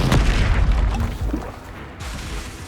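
Explosive spell blasts in Hogwarts Legacy boom and crash in a dense, loud barrage, with heavy bursts piling on one another and no pause between impacts.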